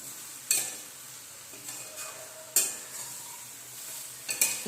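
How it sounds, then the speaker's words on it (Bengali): Mixed vegetables sautéed and stirred in a pan for a Bengali mixed-vegetable curry, a steady sizzle broken by a few sharp spoon scrapes and knocks against the pan, close with no talk. "একটু সাঁতলিয়ে নিলাম।"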